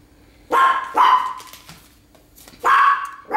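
Several loud, close barks from a dog in a home kitchen while a chicken, ham and cheese casserole is being layered, in two bursts with a pause between them.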